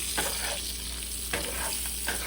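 Canned food tossed into hot oil fries with a steady close sizzle, broken by a few scraping stirs and pulses of crackle over a couple of seconds; no one speaks.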